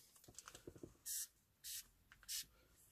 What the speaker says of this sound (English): So I've got my adhesive spray remover and we're just going to crack on.